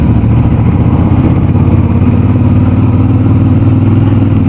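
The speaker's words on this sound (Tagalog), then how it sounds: "May parating mga motor." Loud, steady engine drone from motorcycles approaching on a road in Cagayan de Oro or Bukidnon, a continuous low rumble with no voices.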